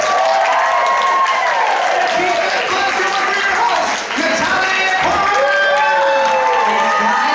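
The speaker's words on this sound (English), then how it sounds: "How about a round of applause?" A live audience at a Double Dare Live game show at the Nickelodeon Suites Resort in Orlando claps and cheers continuously, a loud dense wash of applause with children's excited shouts and whoops rising throughout.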